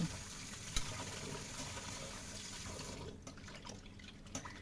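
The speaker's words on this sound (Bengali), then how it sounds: "এবার লাউ পাতাগুলো আমি ভালো করে ধুয়ে নেব" Cut bottle gourd leaves are rinsed by hand in a kitchen, with continuous splashing and trickling water close by and a few sharper drips and swishes toward the end.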